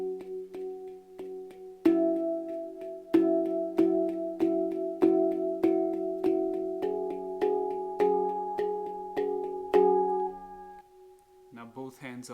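Resonant handpan notes struck in a steady two-against-one pattern, right hand twice per left-hand stroke, ringing and sustaining up close, then stopping before a short spoken bit at the end.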